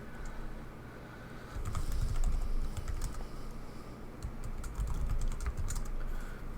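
Keys clatter on a computer keyboard while someone logs in over SSH, with irregular bursts of close, crisp clicks that thicken into faster runs partway through.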